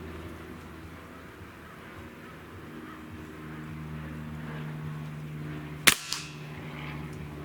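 A Crosman Mag-Fire Ultra air gun fires a shotgun shell, one sharp crack with a quick second snap right after, loud against a faint quiet background hum.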